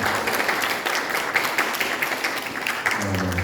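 A church congregation claps during a youth dedication service, a brisk round of applause with faint voices beneath, fading as a low hum enters at the end.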